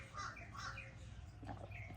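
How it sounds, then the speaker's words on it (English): Birds squawk and call faintly at a distance over a low outdoor rumble, a few harsh cries spread across the moment. "Listen to the birds."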